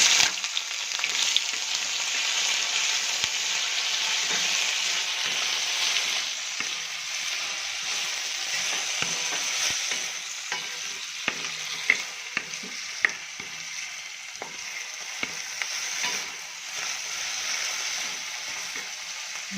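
Onions and cashews frying in a pan for a cashew curry, giving a continuous bright sizzle with occasional scrapes and clicks of a stirring spoon, steady and close with no voices.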